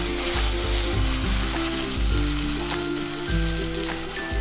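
Ground masala paste hits hot oil in a pan, already seasoned with cinnamon, for paneer butter masala, giving a loud, steady sizzle and fry that stays close and continuous throughout, with faint stirring and no talk.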